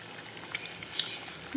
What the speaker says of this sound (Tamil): முட்டையை உடச்சி சேர்த்தாச்சு. இதை இப்போ நல்லா அந்த எண்ணெயிலேயே பொரித்து எடுத்துக்கலாம்